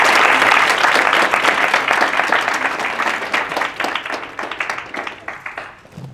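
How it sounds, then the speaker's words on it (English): An audience at a Binghamton University keynote event claps and applauds in a dense, loud burst that gradually thins out and fades over several seconds. "We can give Demetrius another round of applause"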